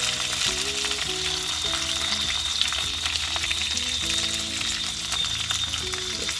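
Ginger and garlic hit hot oil in a pan alongside red chilies, giving a loud, continuous close sizzle with faint crackles throughout and no voices.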